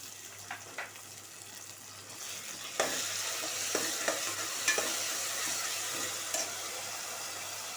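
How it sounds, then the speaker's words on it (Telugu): Tomato puree goes into a hot frying pan and is stirred. A soft sizzle rises and keeps going, broken by repeated scraping clicks and taps from the spoon against the pan, with no talking. "టమాటా ప్యూరీ వేస్తున్నానండి."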